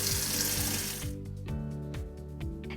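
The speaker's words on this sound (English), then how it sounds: "we're gonna put a little bit of warm water on them" Warm water runs from a tap and splashes onto dried porcini mushrooms in a bowl, a bright steady pour that stops after a second, followed by faint drips and a repeating low electronic pulse.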